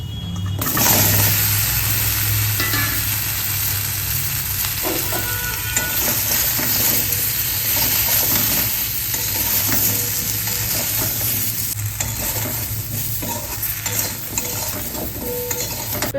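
Vegetables hit oil in a wok and sizzle in a broad, steady hiss that runs loud and unbroken, with a few faint clinks of stirring and no voices.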